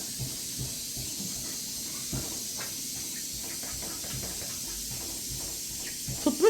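Steady broadband hiss and bubbling of a pot boiling over a small gas burner, constant throughout, with faint background voices.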